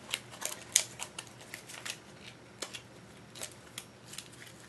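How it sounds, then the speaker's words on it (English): A deck of Cynder encounter cards for the Shadows of Brimstone board game is shuffled close by, giving quiet, irregular papery clicks and riffles with a few sharper snaps. "I will shuffle these up"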